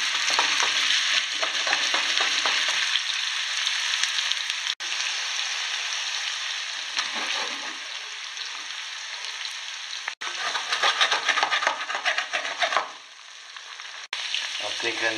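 Meatballs frying in a pan, giving a steady crackling sizzle that runs close and continuous, with a few brief stirring or turning pauses.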